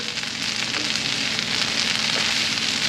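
Leftover brisket hash browning in a hot pan gives off a steady, even sizzle and crackle that holds at one level throughout, close by, with no voices.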